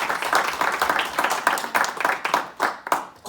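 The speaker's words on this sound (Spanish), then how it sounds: "Denle un aplauso fuerte al Señor." A church congregation claps in loud, rhythmic bursts during a sermon, the claps close and fairly even with brief gaps between groups.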